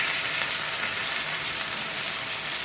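Burger patties sizzle loudly and steadily in a hot pan on a large stove burner, a dense unbroken frying hiss with no voices over it.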